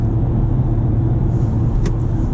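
Exhaust and engine of a 2018 BMW 440i Gran Coupe in Sport Plus mode on twisty roads, a steady loud low rumble from inside the cabin, with one brief sharp click near the end and no talking.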